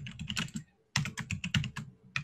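Rapid, irregular keystrokes on a computer keyboard, close and crisp, in two bursts separated by a brief pause, with no voices.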